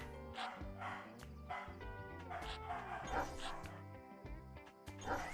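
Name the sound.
dog whimpering excitedly in the room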